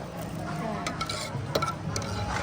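A ladle stirs suki soup in a pot, giving soft scraping and sloshing strokes with faint clinks, close and moderately quiet over a low simmering hiss.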